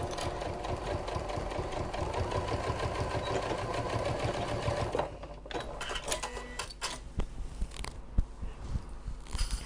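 A sewing machine stitches leather for a medication bag organizer, a dense, steady run of quick mechanical pulses for about five seconds, then stopping and giving way to scattered clicks and handling noises.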